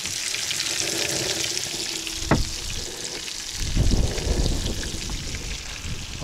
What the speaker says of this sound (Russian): Рыбка жарится, удочка закидывается.